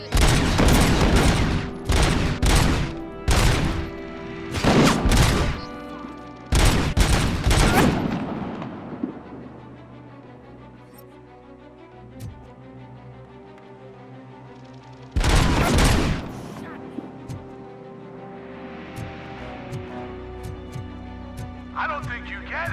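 Sniper and heavy gunfire ring out in RoboCop: Rogue City as rapid bursts of sharp shots, then a long ringing decay with game ambience, followed by another loud volley.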